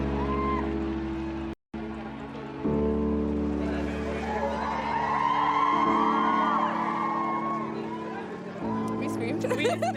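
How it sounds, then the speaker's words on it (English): A large crowd outside St. Mary's Hospital screams and cheers as the British royal family emerges, a dense, sustained roar of whoops and yells that swells midway, with a brief cut early on. "Everyone was screaming, trying to get the pictures and videos."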